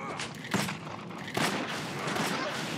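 Gunshots in the Torchlight action game, a couple of sharp cracks near half a second and one and a half seconds over a faint background of combat noise.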